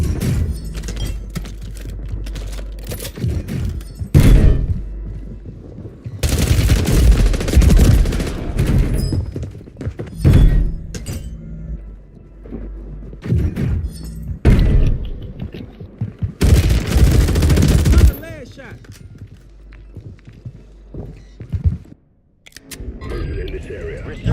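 Gunfire in the video game Call of Duty Warzone, with repeated loud automatic bursts and booming impacts coming in waves, interspersed with quieter stretches and occasional voices.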